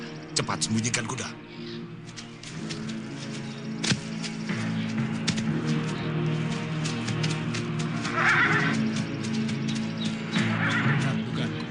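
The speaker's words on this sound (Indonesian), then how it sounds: "Cepat sembunyikan kuda." A horse whinnies near the start of a period drama scene, with voices and a steady musical backdrop continuing underneath throughout.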